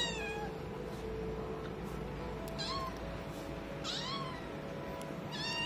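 A domestic cat meows several times, each call a rising, drawn-out wail standing out over a steady low background hum, with no talking.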